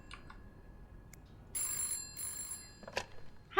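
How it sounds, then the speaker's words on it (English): A telephone rings inside This Bed We Made, a hotel-set video game: two short bursts of bright electronic ringing sound out clearly over quiet game ambience, with no speech. "Phone is ringing, dear."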